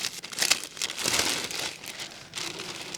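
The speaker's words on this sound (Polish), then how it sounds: "Odmierzamy sobie teraz papier do pieczenia." Sheets of baking paper are crinkled and handled in a kitchen while preparing an apple-flavoured cheesecake, giving a close, bursty crackling and rustling for a few seconds.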